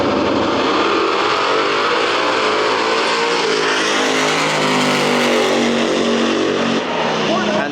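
A drag-racing Mustang makes its pass at the Rocky Mountain Nationals, a loud, sustained engine roar that fills the whole stretch with high-revving drone, an announcer's voice running over it.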